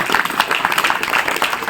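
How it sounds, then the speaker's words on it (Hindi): A short stretch of audience applause at a Shiv Jayanti gathering: a steady, crackling patter of many hands clapping, fairly loud and even, without talk. "ताली बजाओ इनके लिए,"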